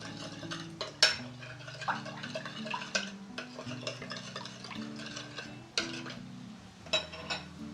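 Vegetable salad being stirred in a bowl, with repeated clinks and scrapes of a utensil against the dish in an irregular rhythm, close up and alone with no talk.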